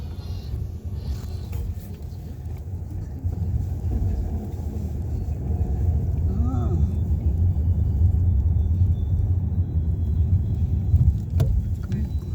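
City street traffic in central Seoul, with buses and taxis passing on a cold, still day, makes a low continuous rumble that swells gradually as vehicles approach. A short muffled voice comes through faintly.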